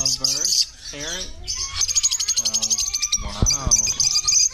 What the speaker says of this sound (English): lovebird. Parrot.